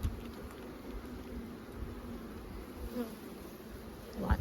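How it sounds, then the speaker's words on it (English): Bees swarm around an opened beehive, a dense, steady buzzing hum that carries on throughout at a fairly quiet level, with no talk. "Lots of bees."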